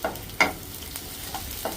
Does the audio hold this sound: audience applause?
no